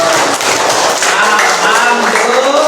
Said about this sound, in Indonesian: Dan tepuk tangan untuk kita semua.